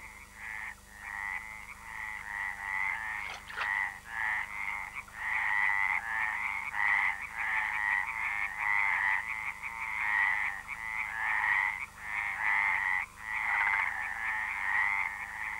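A dense chorus of stripeless tree frogs croaking, rapid pulsed calls repeating steadily and close by, with no voices.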